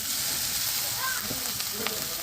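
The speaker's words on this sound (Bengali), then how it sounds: "তো এখন আমি বাকি ভাতটা ঢেলে নিব।" Leftover rice hits hot spiced oil in a pan and sets off a steady, bright sizzle that hisses evenly throughout, with a few faint clinks mixed in.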